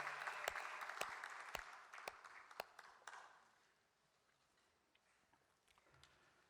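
A congregation at a national pastors' and elders' prayer meeting gives applause. The clapping is faint and distant, with a few sharp claps standing out, and it tapers off halfway into near quiet.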